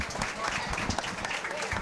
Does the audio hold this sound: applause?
yes